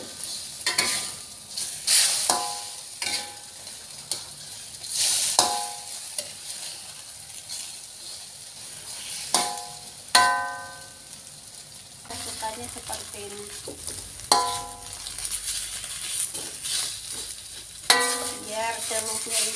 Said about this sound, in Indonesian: Nah, sekarang kita masak telur dadarnya teman-teman.